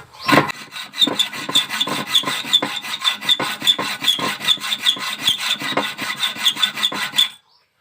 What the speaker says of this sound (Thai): ผมขอเลื่อยอีกนิดนึง